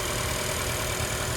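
A 2026 Toyota Camry XSE AWD's 2.5-liter naturally aspirated four-cylinder hybrid engine idles steadily with a low, even rumble, close and continuous, with no talking.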